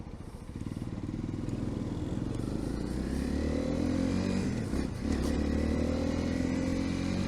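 A Honda CL250 naked motorcycle engine runs close by, a steady throbbing idle that rises slightly in pitch with a brief dip near the middle, heard alone without talk.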